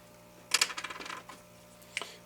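Small plastic parts for an HPI Baja SS RC car are dropped into a spare parts bucket, giving a close cluster of light clattering rattles, then one more faint clink a moment later.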